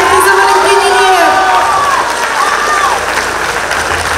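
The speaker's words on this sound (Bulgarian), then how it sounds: "Аплодисменти за Валентин Илиев!" Loud audience applause at a sports awards ceremony for athlete of the year, with sustained clapping, cheering and rising whistles filling the hall throughout.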